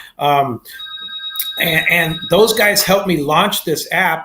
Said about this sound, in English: Excuse the phone there. I forgot to turn the ringer off.